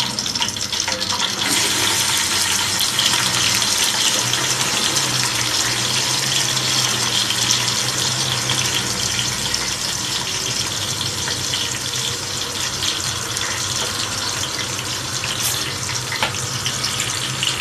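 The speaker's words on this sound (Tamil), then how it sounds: "நம்ம எவ்வளோக்கு எவ்வளோ வெங்காயம் நல்லா ஃப்ரை பண்ணுறோமோ அவ்வளோக்கு அவ்வளோ அது பிரியாணிக்கு டேஸ்ட் கொடுக்கும்." Sliced onions sizzle in hot oil in a pan for Ambur biryani, a steady, dense hiss lasting throughout, close and even, with no talking.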